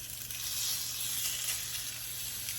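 Maple sausage patties sizzling in hot olive oil in a skillet, a steady bright hiss and crackle at moderate volume, continuous with no voices.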